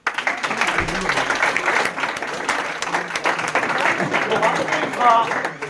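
Audience at a youth chaplaincy evening claps steadily, a sustained round of applause with a voice talking over it.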